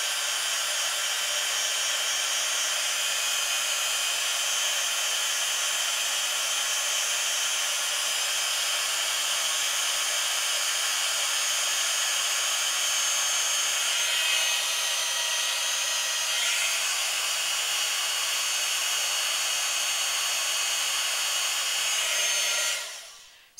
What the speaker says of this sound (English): So then you'll need a heat tool.